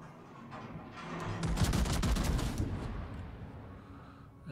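Naval guns from a ship in the World of Warships game fire a salvo, a rolling burst of heavy booms and blasts that swells loud for a couple of seconds and then fades, with no talk over it.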